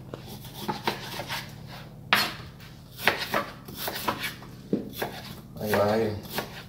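A knife chops partly frozen meat on a board, giving sharp, irregular thuds close by with short pauses between them, while someone talks over the cutting.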